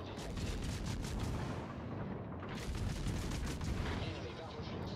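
Naval gunfire from a warship in a video game, made up of dense, continuous booming and crackling salvos that stay loud throughout and overlap a voice talking.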